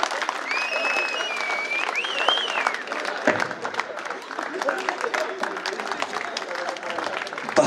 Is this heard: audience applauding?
yes